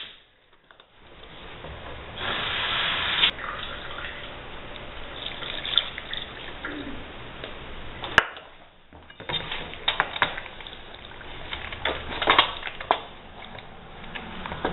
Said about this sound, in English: She's going to add another cup of water